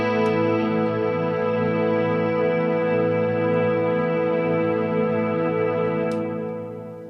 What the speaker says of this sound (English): I'm just going to play a chord and then press the switch